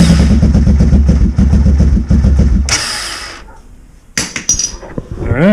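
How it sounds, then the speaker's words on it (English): A Honda Fourtrax ATV with rebuilt starter brushes cranks loudly and rhythmically for several seconds, then stops; a few sharp metallic clicks and clanks follow nearby. "we replaced the brushes in the starter, and it cranks right over"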